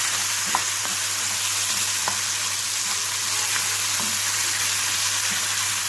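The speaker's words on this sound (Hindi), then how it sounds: "अब हम इसके साथ ही ऐड करेंगे 2 कटे हुए टमाटर, इन्हें अच्छी तरह से मिक्स कर लेंगे।" Chopped tomatoes fry in a pan with a steady, bright sizzle, while occasional sharp clicks of stirring sound throughout; no voices are heard.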